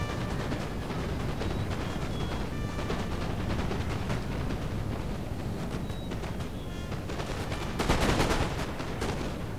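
Rapid bursts of musket-style gunfire from troops fill a video game battle, crackling steadily throughout with a louder volley near the end.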